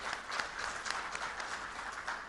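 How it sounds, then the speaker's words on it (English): Steady applause from a crowd, a dense wash of many hands clapping at moderate distance, sustained throughout without speech. "I think they deserve a big round of applause for that."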